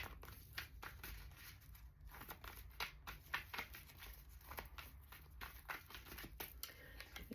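Oracle cards are shuffled by hand in close, quiet bursts of riffling and soft slaps, a steady run of small papery clicks against faint background hiss.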